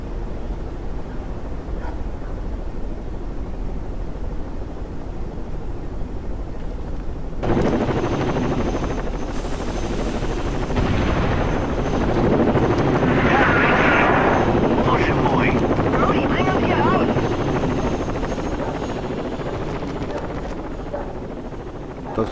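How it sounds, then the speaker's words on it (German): A helicopter flies over in the shooter game Rainbow Six Vegas, a steady rotor roar that swells loudly midway and then slowly fades, with game sounds around it. "War im Übrigen gerade ein wunderschöner Überflug mit dem Hubschrauber."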